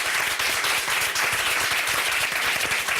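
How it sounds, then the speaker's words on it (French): A studio audience at a French celebrity talk show applauds a guest author. The clapping is dense, steady and loud, with many hands blending into a continuous roar for about three seconds. "Merci d'applaudir Jonathan Hirschberg."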